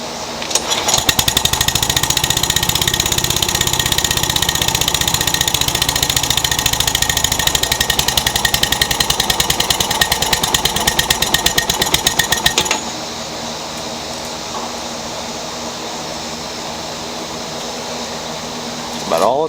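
A Snapper lawn mower engine with a carburetor fault runs loud and close in a steady, rough drone that never climbs to full revs, then falls to a quieter, lower idle partway through.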